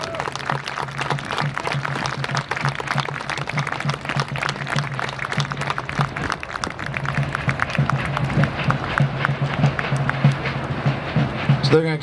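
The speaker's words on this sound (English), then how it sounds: "let's give our defenders a round of applause as they re-enter into the fort." Crowd applause outdoors at a French and Indian War reenactment at Fort Ligonier, greeting reenactors as they march back into the fort; steady dense clapping continues throughout under a low hum, with voices mixed in.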